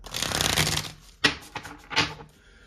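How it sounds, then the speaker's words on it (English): A deck of tarot cards is riffled and shuffled nearby, a fluttering burst followed by a few shorter papery snaps and slides. "One more shuffle."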